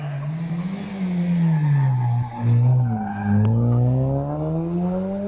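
A Caterham race car pulls away from the start line at a Wiscombe Park hillclimb, its engine note climbing steadily through the gears with a brief dip mid-run, loud and close at first and then carrying on strongly.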